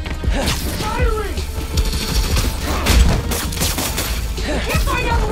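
Enemies open fire in Spider-Man: Miles Morales, a dense spray of loud gunshots with crashing and shattering debris, while voices shout over the chaos.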